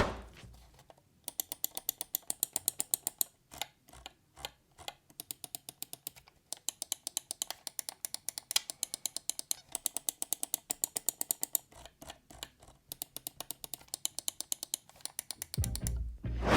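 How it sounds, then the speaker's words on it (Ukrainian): Rapid runs of crisp, close, loud clicks from the buttons of a Dream Machines DM9 Skill wireless computer mouse, in quick rhythmic bursts separated by brief pauses, with faint background noise between them. "Тому клік тут досить гучний, і ви точно почуєте, коли натискаєте на кнопку"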